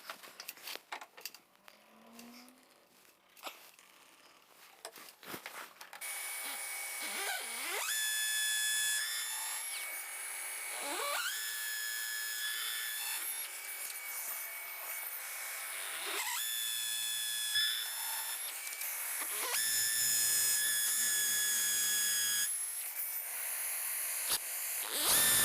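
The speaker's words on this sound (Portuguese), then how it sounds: "Agora que já furamos todos os buracos e estamos satisfeitos com eles" Power drill boring holes for a barn-style sliding door track, several whining bursts that rise in pitch and run for a few seconds each, separated by short pauses and faint handling noises.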